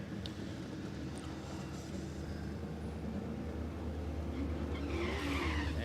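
A drag racing car at Warwick Dragway does a smoky burnout, a loud sustained engine roar with spinning, squealing tires that holds steady and grows slightly harsher toward the end.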